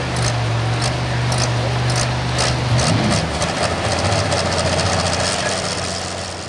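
A John Deere 6030 pulling tractor, the Real Deere Pro, roars under heavy load at a 10,000 lb pull in Hillsboro, Wisconsin, giving a loud, steady, low engine drone with a brief rise partway through.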